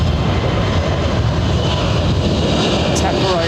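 Aircraft at London Heathrow Airport, a steady, loud broadband engine roar holding constant throughout, with a voice faintly present over it.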